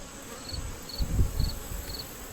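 Honey bees swarm around an open hive frame of a recently fed colony, giving a soft, low, steady buzz that swells briefly in the middle, with faint high ticks repeating above it.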